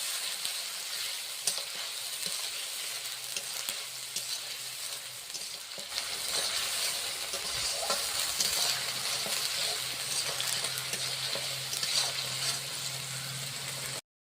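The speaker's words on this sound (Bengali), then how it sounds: "পেঁয়াজটা লাল লাল করে ভেজে নিতে হবে।" Sliced onions frying in oil in a pan for a prawn malai curry, giving a steady, fairly quiet sizzle with soft crackles that continues throughout.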